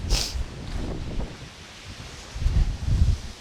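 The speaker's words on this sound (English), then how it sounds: "it's much windier up here" Gusty wind buffets the microphone at Black Lake below Longs Peak in the Rocky Mountains in February, a loud, continuous roar that swells and rumbles in uneven surges.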